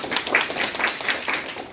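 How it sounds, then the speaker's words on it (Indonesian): Brief scattered clapping from a small classroom group, a few seconds of light, close handclaps with no voices. "Boleh tepuk tangan?"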